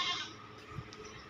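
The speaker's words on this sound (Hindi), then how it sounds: "ये दूसरे नंबर वाला बकरा आ गया" A bleat from a Makhi Cheeni breed goat at a livestock sale, brief and fairly faint, set against a steady background hiss.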